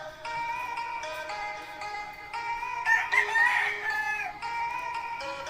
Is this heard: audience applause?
no